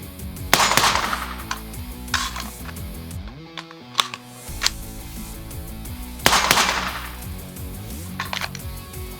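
Sharp, loud gunshots ring out at an outdoor shooting range, several irregular bursts of quick reports spread across the clip with brief pauses between them and no talk.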